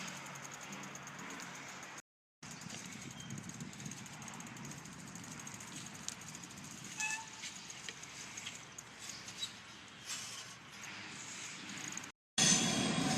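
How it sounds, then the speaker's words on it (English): A steady, broad rumble of a passing train at moderate distance, droning continuously for several seconds with faint squeals, a brief cut near the start, no talking. "This is like the third train so far this morning in the past 10 minutes"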